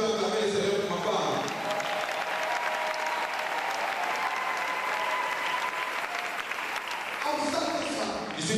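Audience applause for the speaker's wife, a sustained, dense wash of clapping from a large crowd lasting several seconds, loud and even, with voices and cheers mixed in.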